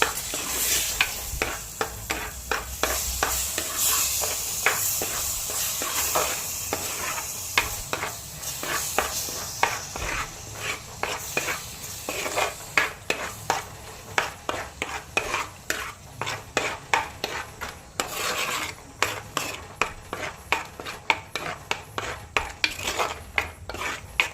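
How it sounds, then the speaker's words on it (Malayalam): Spice paste being stirred into a mackerel chilli curry in a pan, with a spoon scraping and clinking against the pan in steady repeated strokes over a continuous sizzle, close and fairly loud, with no talk. "ഈ അരപ്പ് ചേർത്തിട്ട് നന്നായി ഇളക്കുക."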